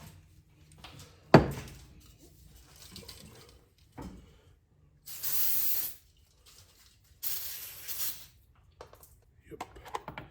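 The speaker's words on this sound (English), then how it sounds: "I grab some carb cleaner, clean the carb a little bit" Carb cleaner sprayed from an aerosol can onto the carburetor of a 2001 Yamaha SXR 600 triple snowmobile, two loud hissing bursts of about a second each, near and separated by quieter workshop clatter.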